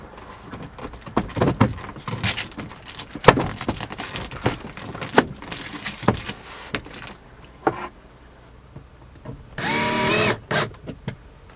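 A power drill drives screws during a camper van build, with short whirring bursts, clicks and knocks scattered across the span, and one longer, louder high-pitched drilling run near the end.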